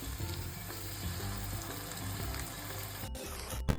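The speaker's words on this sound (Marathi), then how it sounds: "आपण ह्याच्यात चिली सॉस टाकणार" Chili sauce hits a hot pan of masala noodles and sizzles in a loud, steady frying hiss, with faint stirring scrapes and a couple of sharp clanks near the end and no speech.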